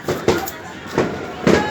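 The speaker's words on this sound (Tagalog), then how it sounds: "Ang dami fireworks sa labas." New Year fireworks going off outside, four dull booming pops spaced irregularly, somewhat muffled and distant, with voices nearby.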